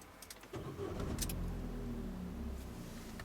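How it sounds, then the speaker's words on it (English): A car engine started with the ignition key during a driving lesson: a brief click and crank, then the engine catches and settles into a steady low idle heard from inside the cabin. "To start the engine, any idea what we do next? Another click. That's it. Just turn it. When the engine starts, let go of the key."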